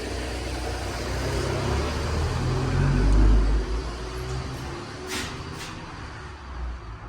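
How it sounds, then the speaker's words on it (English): A car passes along a town street, its low engine rumble rising to a peak midway and then fading as it moves off. "Oh, car coming through."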